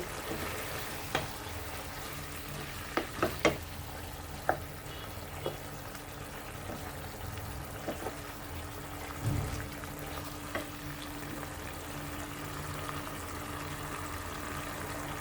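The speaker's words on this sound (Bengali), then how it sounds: "তারপরে এগুলো ভালোভাবে কষে নেব" Fish masala with red chilli sautéing in a pan, a soft steady sizzle with a few sharp stirring clicks and scrapes, fairly quiet.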